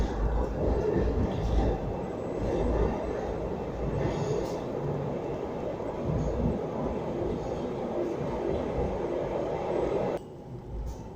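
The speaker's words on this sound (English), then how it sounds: "Here comes our funicular" A funicular rumbles steadily into a train station in Luxembourg, a loud continuous mechanical roar that cuts off abruptly near the end.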